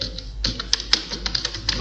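Computer keyboard typing in a classroom computer lab, a quick irregular run of light plastic keystrokes at close range, with no voices.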